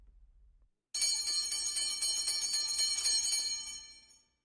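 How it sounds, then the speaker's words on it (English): An electric school bell rings loudly and continuously at 8:30 in the morning, a bright metallic clanging that starts abruptly, holds steady for about three seconds, then fades away. "the school bell is ringing."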